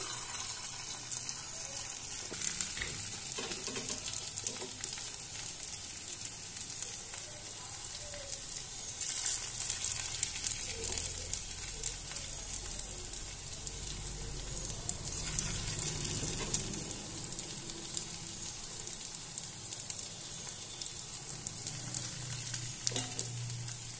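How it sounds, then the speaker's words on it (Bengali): Small bora fritters fry in well-heated oil, giving a steady, fairly quiet sizzle that runs continuously with faint kitchen clatter and occasional water-like hiss in the background. "এবার আমি বড়াগুলো ছোট ছোট করে বড়াগুলো ভেজে নিচ্ছি"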